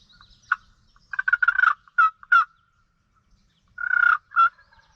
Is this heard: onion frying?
no